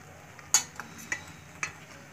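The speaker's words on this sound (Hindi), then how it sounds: "अब इसमें डाल देंगे ये अदरक का बनाया हुआ पेस्ट" Ginger paste going into a pan for Indian ginger halwa, followed by a few soft stirring scrapes and light sizzle, close and quiet with short gaps between strokes.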